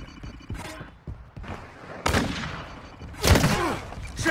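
Gunfire in Call of Duty: Warzone Mobile, a scattered series of sharp shots and bursts, some close and loud, others farther off, over a busy battlefield background.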